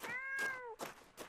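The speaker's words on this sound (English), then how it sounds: "That cat sounds like Baby Yoda, kinda." A cat meows in the fantasy video game Knight's Path, one long drawn-out high meow followed by shorter chirping mews, close and clear with no talk.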